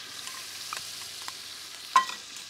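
Garlic-ginger and green chili paste sizzle softly in a pot while mutton yakhni pulao is being made, a faint hiss with small stirring clicks and one sharper scrape near the end.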